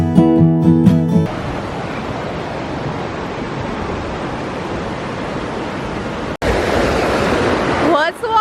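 Water rushing near a waterfall in North Carolina, a loud, steady broadband roar close by, briefly interrupted once and preceded by a short burst of music at the start.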